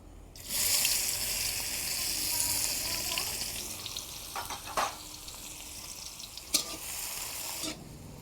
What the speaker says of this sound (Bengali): এবার দিয়ে দিচ্ছি কুচিয়ে রাখা দুটো বড় পেঁয়াজ।